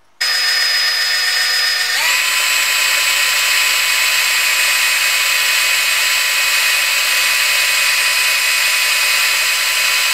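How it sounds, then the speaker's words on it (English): A power drill whines steadily as a 1/8 drill bit bores a hole into metal for tapping, its pitch shifting slightly early on and then holding loud and constant. "we're going to have to pile it with a 1/8 drill bit"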